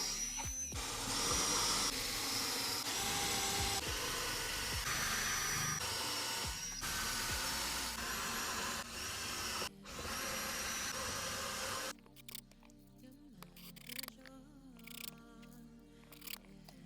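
Threaded inserts being driven by hand with an Allen key into a live-edge wooden slab, shown as sustained loud mechanical noise for about twelve seconds that then drops to quieter, scattered sounds.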